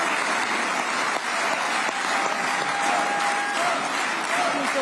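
Members of the Israeli parliament applaud after Trump's speech, a sustained, dense clapping from a large hall that stays loud and even throughout, with faint crowd murmur mixed in.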